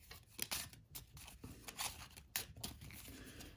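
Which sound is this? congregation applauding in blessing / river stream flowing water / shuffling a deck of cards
shuffling a deck of cards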